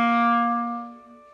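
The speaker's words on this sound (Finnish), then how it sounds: "Eli sieltä klarinetti kuulostaa tältä." A clarinet sounds a single low note from its lowest register, a rich sustained reed tone that swells briefly and then fades, heard alone.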